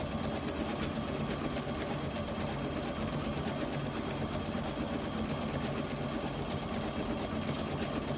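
A home embroidery machine stitches a monogram onto a towel, a continuous fast mechanical whir with a rhythmic needle chatter that stays steady and fairly quiet throughout.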